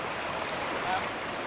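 Water rushes hard and steadily at a waterfall as a loud, even roar with no break over a short moment.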